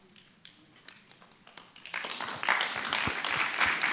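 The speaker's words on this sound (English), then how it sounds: "And you're clapping for the global fellows." An audience at a philanthropy forum breaks into applause, starting as scattered claps and swelling into dense, sustained clapping from a large crowd in a hall.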